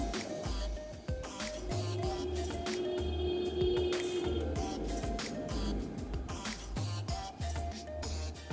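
Fish coated in lentil (masoor dal) paste sizzles in hot oil, a steady dense crackle running throughout with occasional sharper pops and clicks of utensils, close and fairly loud.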